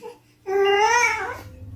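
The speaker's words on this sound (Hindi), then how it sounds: "ये रोने की आवाज किसकी आ रही भाई?" A single wailing cry, like an infant's, is said to come from a haunted doll. It rises and falls over about a second and is loud and close, standing over a low hum.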